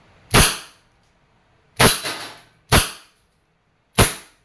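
A Wingun WG708 airsoft revolver with a 2.5-inch barrel fired double action, four sharp cracking shots at uneven intervals, each a loud close pop with a short fading tail, otherwise quiet.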